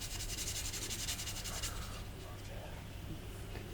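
Fine-grit sandpaper rubs over the body of a Hasegawa Lancia Stratos HF Stradale scale model car in quick, close strokes that soften and fade partway through.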